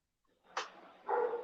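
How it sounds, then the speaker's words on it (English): Dogs outside a house give a short sharp bark followed by a longer whining yelp, faint and distant with no talk over them. "I can hear your dogs. They're calling you."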